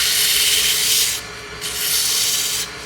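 Sandpaper held against a wooden spindle spinning on a lathe, a loud continuous hissing rub that swells and eases in two long passes, close up with no talking.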